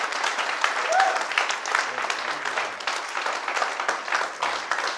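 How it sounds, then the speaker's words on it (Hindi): An audience at a Safedeal Spark seminar claps in a steady, dense round of applause that fills the whole stretch, fairly loud and close. "तो ताली बजाइए जोरदार"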